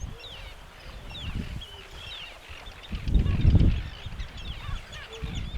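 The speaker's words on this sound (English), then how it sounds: "they have this huge colony of Arctic terns" A colony of Arctic terns calls on Vigur Island, Iceland, with many harsh, overlapping cries scattered across the scene and a louder burst of low rumble partway through.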